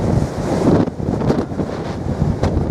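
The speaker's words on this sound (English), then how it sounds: "I'm just going to get out of this wind" Strong wind buffets the microphone on the exposed summit pinnacle of Rough Tor on Bodmin Moor, Cornwall, a loud continuous roar with gusty surges and no voices.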